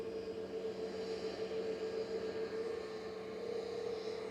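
An Airbus A320-200neo airliner arriving from Athens touches down at Manchester Airport on a sunny day, heard as a steady, fairly distant jet roar with a sustained droning hum that holds an even level throughout, with no voices.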